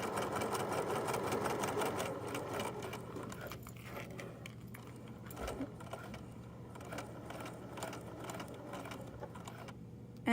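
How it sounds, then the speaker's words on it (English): A sewing machine stitching toward a pivot point, a steady, fast mechanical whirr of the needle running continuously at moderate distance, slightly louder at the start and easing a little later, with no talking. "So I'm going to sew."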